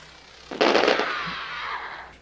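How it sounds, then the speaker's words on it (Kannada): Fireworks burst in the video game Crimson Snow, a sudden loud crackling blast that decays into a fading hiss over about two seconds, with no talk. "ಪಟಾಕಿ ಹೊಡಿತಿದ್ರು ದೀಪಾವಳಿ ಏನು"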